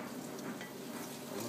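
Roux being stirred into a thick Cajun seafood stew in a pot makes a soft, continuous bubbling and stirring murmur, quiet and close with no talking.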